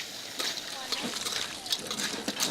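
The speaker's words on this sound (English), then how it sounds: "So I just toss the clams in those aromatics." Clams sizzling and sloshing as they are tossed with pungent aromatics in a hot pan for a Shandong-style dish, with scattered splattering and clattering bursts throughout a steady frying hiss.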